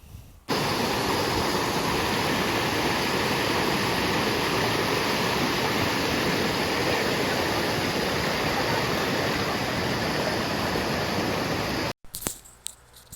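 A stream rushes steadily at a village bathing spot in Meemure, Sri Lanka, a loud, close, unbroken wash of flowing water lasting most of the clip before cutting off abruptly near the end.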